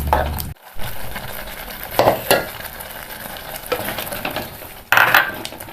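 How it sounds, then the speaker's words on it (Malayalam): A ground masala paste for mackerel curry bubbles and sizzles in a pan over medium flame, with a steady frying hiss broken by a few sharp spatula stirs and scrapes against the pan. "ഇപ്പോൾ ഈ അരപ്പ് നന്നായിട്ട് തിളച്ചിട്ടുണ്ട്"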